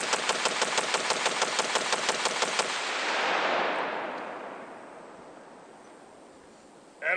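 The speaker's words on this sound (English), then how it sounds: "I'm going to dump the rest of this magazine." Mud-covered rifle emptying the rest of its magazine in a rapid, evenly spaced burst of loud shots lasting about three seconds, followed by a long echoing decay and quiet outdoor air.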